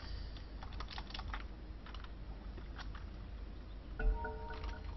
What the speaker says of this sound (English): Sorry, I'm typing now.